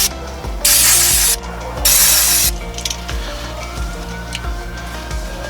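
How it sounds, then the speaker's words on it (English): Two long, loud bursts of brake cleaner aerosol spray hiss close up onto the brakes of an Alfa Romeo, followed by faint clicks and a steady mechanical hum. "we're going to give them a quick spray of brake cleaner"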